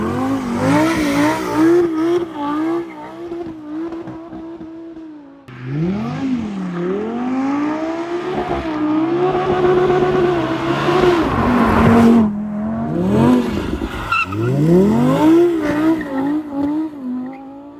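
An Audi is driven sideways in a drift, its engine revving and rising and falling in pitch while the tires squeal loudly, with a brief lull before the engine surges again and the skidding squeal continues.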